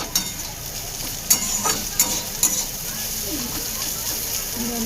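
Bitter gourd and potato frying in oil with a dense steady sizzle and a few sharp spatula clatters against the pan, all close and loud.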